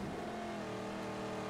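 A car engine revving steadily during a race in the video game Mad Max, a continuous loud droning roar with no break across the short stretch.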